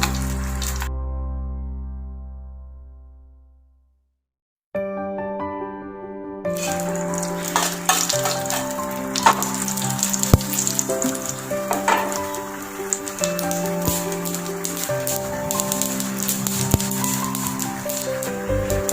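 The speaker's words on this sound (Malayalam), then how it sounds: "ഏകദേശം കടുക് പൊട്ടിക്കഴിഞ്ഞിട്ടുണ്ട്." Mustard seeds crackle in about two spoons of hot oil in a pan, making a busy sizzle with sharp scattered pops that runs for much of the stretch after a brief quiet start.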